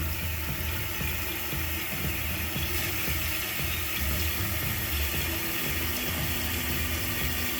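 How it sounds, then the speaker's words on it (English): A toilet tank refills through a newly replaced fill valve, giving a steady, continuous rush of running water close by with no talk over it. "it'll fill the toilet up, and then that black float will start to rise."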